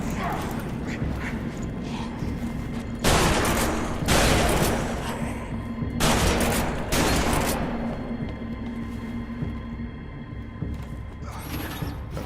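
Shotgun fired in the video game Deadlight: four loud, heavy blasts in two pairs over a low ambient game background, with a faint creaking rumble between shots.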